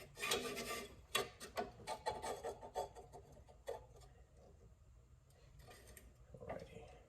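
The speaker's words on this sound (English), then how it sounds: "have to file all that down" Close, rhythmic rasping strokes of a hand file scraping metal while making a door latch, bursts of grinding that fade toward the end with a faint voice nearby.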